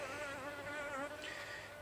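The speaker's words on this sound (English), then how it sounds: "The bee having a little look." Honeybees buzz close by at a Flow Hive Hybrid colony being fed sugar syrup, a continuous wavering drone of wings with no voices.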